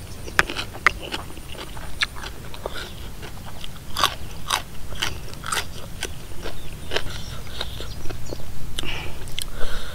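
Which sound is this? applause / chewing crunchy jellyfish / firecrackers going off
chewing crunchy jellyfish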